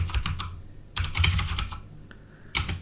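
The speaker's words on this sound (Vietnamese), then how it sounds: "nghe tiếng phím cạch cạch cạch cạch nhé" A computer keyboard is typed on up close, with crisp plastic key clacks coming in quick bursts separated by short pauses. No voices are heard.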